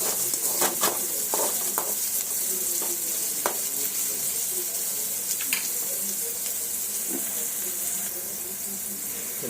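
Prawns frying in a pan with onions and capsicum, a steady close sizzle with occasional stirring clicks and scrapes running throughout, no voices.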